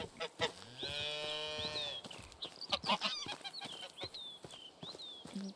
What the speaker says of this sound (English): But the cows are out and wandering about.